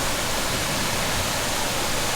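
The waterfall at the Venetian Pool in Coral Gables gives a constant broad rushing hiss, steady and fairly loud throughout with no voices.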